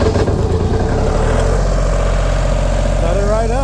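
A Miller Big Blue 400D welder's diesel engine cranks and catches, then settles into a loud, steady low idle close by, with a throaty pulsing rumble and a brief rise in pitch at the end.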